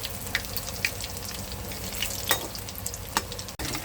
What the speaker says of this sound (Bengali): গ্যাসটা কমিয়ে রাখতে হবে, কমিয়ে কমিয়ে ভাজতে হবে, তা নাহলে ভিতরটা কাঁচা থাকবে।